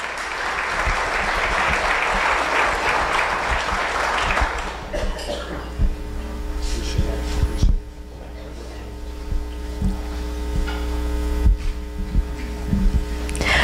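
Applause from a chamber of commerce awards gala audience honoring retiring board members, a loud dense wash of clapping that fades after a few seconds into a quieter room with mains hum and scattered noises.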